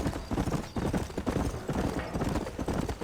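Horse hooves clip-clopping steadily at a riding pace in the Western video game Red Dead Redemption (Remastered), a continuous close rhythmic patter lasting throughout with no talk over it.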